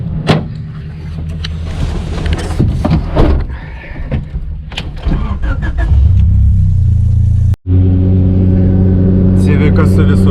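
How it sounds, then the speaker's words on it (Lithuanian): A Honda Civic rally car runs on a gravel stage at Rally Daugai 2024, its engine revving loudly and building into a sustained roar, with voices talking over the early part and a brief cut near the end. "Civikas su visokiais garsais."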